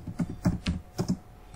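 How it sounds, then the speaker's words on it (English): Rapid keystrokes on a computer keyboard while entering a comment in a spreadsheet, a quick uneven run of about eight close, clear clicks with no talking. "You want to write something about Ali."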